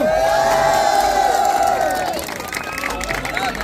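A large crowd at a ringside boxing event between two local youth teams shouts and cheers loudly in a sustained roar, with one voice whooping high above it before the noise settles into a busier mixed crowd din.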